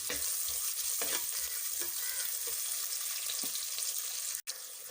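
Onions sizzle steadily in a hot pan with fennel seeds, with soft scraping as they're stirred every second or so and a brief sharp clank near the end.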